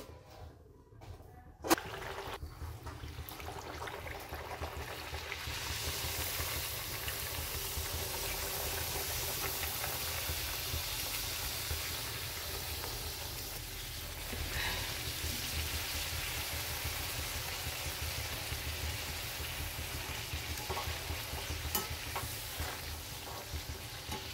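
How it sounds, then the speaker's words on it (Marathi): Spinach puris frying in hot oil, a steady loud sizzle that follows a sharp clatter near the start and runs on evenly without talk. "आता राहिलेले मी अशाच तळून घेते"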